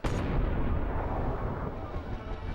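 Layered gunshot sound effect built from five combined sounds, heard as a sharp loud crack at the onset that swells into a heavy booming body and a long rumbling decay tail lasting over two seconds.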